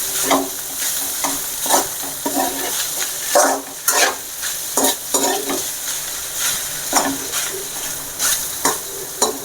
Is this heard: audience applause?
no